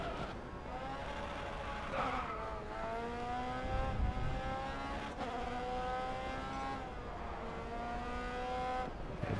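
Open-wheel race cars in the Grid Autosport video game scream along at high revs, with engine notes rising and dropping through quick gear changes as several cars run close together.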